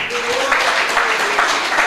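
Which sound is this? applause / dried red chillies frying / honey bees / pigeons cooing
applause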